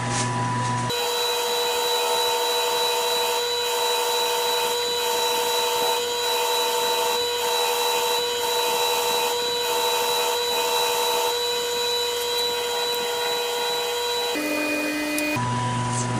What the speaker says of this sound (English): we're just going to go ahead and touch this up on our wheel and get rid of any little buffing marks